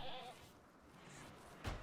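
Brief, faint bleat of a goat at the start in the game RimWorld, followed by low background noise and a short soft thump near the end.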